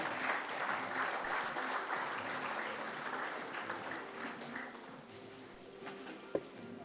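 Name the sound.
audience applause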